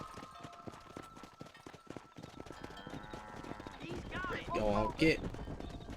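Horse hooves clip-clop in a quick, steady rhythm in Red Dead Redemption 2, fairly close, while characters talk over the galloping and a louder shout breaks in near the end.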